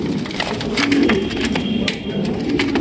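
Large racer pigeons coo in soft, repeated low throaty calls among a group of birds at a pigeon sale, close and steady throughout with some faint background clatter and no talking.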